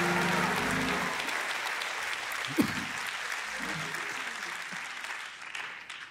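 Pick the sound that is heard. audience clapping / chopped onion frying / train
audience clapping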